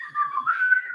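A person whistles a short, bright, wavering melodic phrase in imitation of birds, close and fairly quiet, lasting about a second with no talking.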